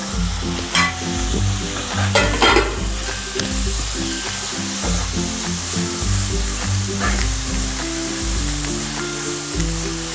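Masala paste for a Kerala-style duck roast sizzles and fries loudly and steadily in a pan, with scraping stirs layered over the continuous crackle throughout.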